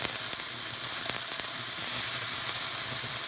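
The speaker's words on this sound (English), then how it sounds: "as I'm flipping these over, I'm getting a nice browning on the side of the meat" Lamb or goat meat sears and sizzles steadily in a hot pan for a North African curry, a constant close frying hiss with a few faint clicks as pieces are flipped, no voices.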